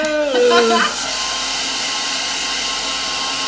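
Handheld hair dryer blowing steadily on wet paint over a stencil for a chippy painted lettering project, a loud continuous whir that holds evenly from start to finish after a short burst of voice near the beginning.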